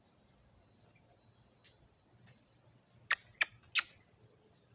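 A cardinal gives repeated short, high, thin peeps in a steady series, joined by a few sharper, louder chip calls, heard alone against quiet outdoor background.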